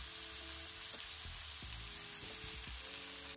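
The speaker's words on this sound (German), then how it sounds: "Einfach mal so ein bisschen heben und gucken an einer Stelle und dann das Steak wenden." Steak sears in a frying pan after being turned, giving a constant close hiss of fat with a few low knocks and scrapes from handling, no voices over it.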